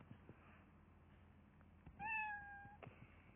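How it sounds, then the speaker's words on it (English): A single cat meow rises briefly and clearly in a Roblox game, short and fairly faint against a quiet background with a few soft clicks. "who's saying meow meow meow?"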